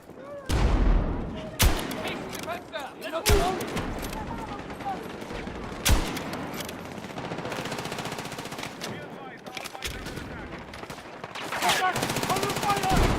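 A minigun in a video game fires continuous, rapid streams of shots in long, loud bursts. Sharp booms punctuate the fire and brief gaps separate the runs.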